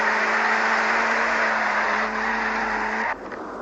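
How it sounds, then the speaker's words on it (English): Sustained screeching tyre skid from a turbo-charged car drifting in the racing game Torque Drift, a steady high squeal over engine roar that cuts off abruptly near the end. "my turbo drifting for this game"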